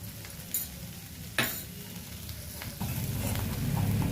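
Bitter gourd pieces fry in a pan with chili powder, a low steady sizzle with a couple of sharp spatula scrapes and a fuller hiss toward the end, heard close and alone.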